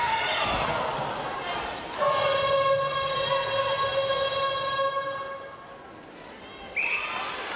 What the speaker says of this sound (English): You can hear that siren.